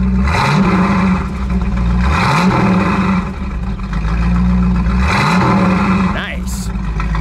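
Close, loud revving from a 1968 Ford Mustang's 428 Cobra Jet V8: three sharp throttle blips climb and fall back to a rumbling idle, spaced a couple of seconds apart.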